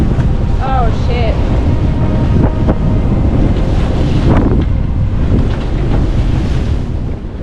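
Wind and Indian Ocean waves roaring around a sailboat at sea, loud steady buffeting wind noise across the microphone with rushing water and surf throughout, and brief chirpy sounds early on.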